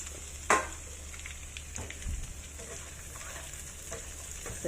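Carrots and celery frying in a pan, a steady low sizzle running throughout with a sharp clatter near the start and a few faint stirring knocks, close and moderately quiet.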